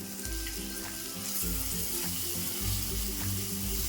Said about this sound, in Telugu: ఒక నిమిషం పాటు ఈ పక్క వేయించుకుందాం